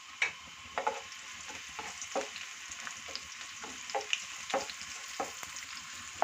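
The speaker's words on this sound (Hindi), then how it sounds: "देखिए प्याज को मैंने हल्का सा सौते कर लिया है।" Chopped onions sauté in two tablespoons of oil in a pan, a soft, steady sizzle broken by regular light taps and scrapes of stirring, fairly quiet and without any talking.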